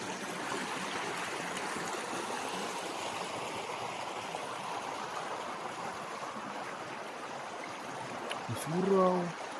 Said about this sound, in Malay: Oh, ada sungai.